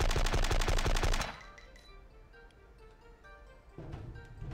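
Gunfire in the Die Hard: Nakatomi Plaza video game, a loud rapid burst of automatic shots for about a second, then quieter game ambience and a later rise in background noise.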